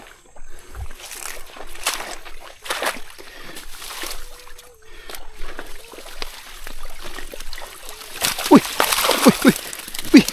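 Water splashing and trickling outdoors as it flows, with sloshing and pouring bursts that grow busier and louder toward the end, under scattered voices.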